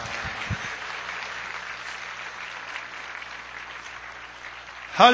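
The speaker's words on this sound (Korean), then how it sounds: "박수하겠습니다." A church congregation applauds after a sermon, with steady moderate clapping throughout. There are low sounds at the very start and a louder burst right at the end.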